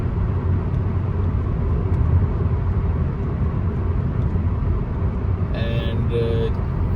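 Steady, loud road rumble from inside a car cruising at 100 km/h on King Fahad Road, continuous engine and tire noise with a short higher tonal sound near the end.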